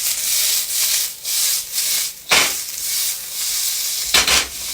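Onion sizzling in a hot wok for fried rice, a steady loud hiss broken by scraping stirs, with a couple of sharp metallic clanks of the spatula.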